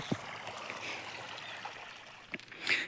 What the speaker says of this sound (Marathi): बघा हे तळ्यावरचं पाणी आहे तळ्यावरच्या मोटरने मी गवत भिजवतो आहे